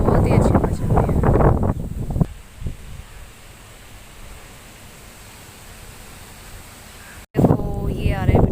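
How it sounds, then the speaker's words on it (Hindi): Wind blows through trees and plants in a village, a steady soft rushing hiss that holds for several seconds between stretches of people talking. "हवा कितनी अच्छी चल रही है"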